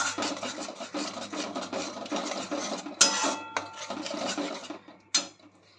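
Spices with Kashmiri chili are sautéed and stirred in a pan for sambar. A spoon scrapes back and forth in a busy rasping rhythm, broken by two sharp metallic knocks, close and clear with no voices.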